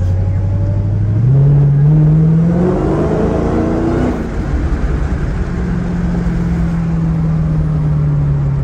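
A Dodge Challenger Hellcat rolls through Las Vegas with its engine droning loud and close, rising as it accelerates and shifts, then settling into a steady cruise.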